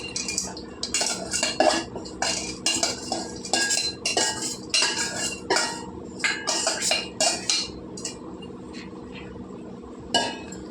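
A spoon stirs cashews, raisins and almonds into double ka meetha, producing rapid clinking and scraping of metal against a pot in busy bursts, close and fairly loud, easing off toward the end.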